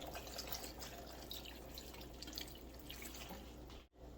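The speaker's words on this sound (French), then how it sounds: "Et ensuite, je vais rajouter de l'eau." Water runs steadily into a cooking pot holding frozen carrots during home meal preparation, a continuous close splashing stream that breaks off briefly near the end.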